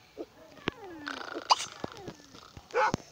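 Cartoonish dog barks from The Sims FreePlay mobile game, several short yaps and whimpers scattered across a few seconds amid light game sounds, with a brief bright burst near the end.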